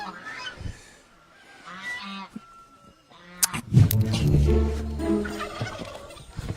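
Chickens squawk and cackle loudly while being carried off, sparse calls at first, then a frantic, dense flurry of flapping and squawking that fills the second half.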